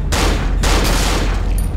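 Gunfire in the horror video game Cry of Fear, heard as loud, close, rapid bursts of shots fired at enemies in quick succession with no pauses between bursts.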